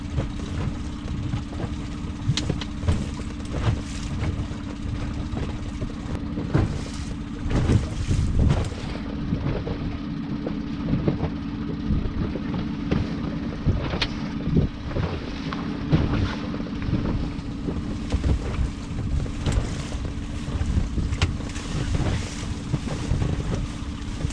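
A Yamaha F15 outboard motor idles on a small boat, a steady low drone throughout with gusty wind buffeting the microphone on a cold February afternoon.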